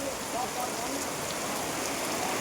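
Heavy monsoon rain in West Bengal, heard from inside a house, falls as a constant, even hiss of drops on surfaces, moderately loud and unbroken.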